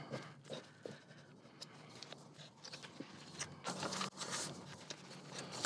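Pages of a book being folded back for book folding art, soft papery creases, rustles and brushing scrapes in short irregular bursts, quiet and close.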